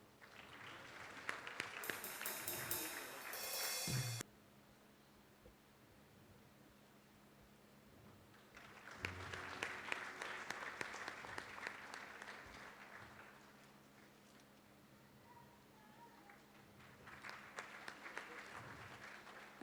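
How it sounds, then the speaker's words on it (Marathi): Church congregation applauding at a Sunday service, two bursts of clapping, the first short and loud, the second longer and steadier, with a quieter third swell near the end amid room hum. "जोरदार टाळ्या वाजू त्यांच्यासाठी."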